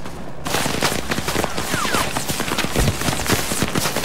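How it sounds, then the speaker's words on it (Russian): Rapid, dense gunfire fills an aerial attack in the Vietnam War shooter Rising Storm 2: Vietnam, a loud continuous fusillade of overlapping shots starting abruptly after a brief quiet opening, with booming low thuds underneath. "А это он по нам стреляет?"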